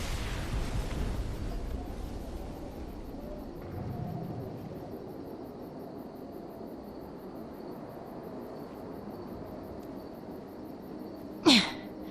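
A reactor explodes in the online shooter Defiance: a broad, rumbling blast opens the scene, fades into a low sustained hum for several seconds, and then a sharp, brief bang cracks out near the end.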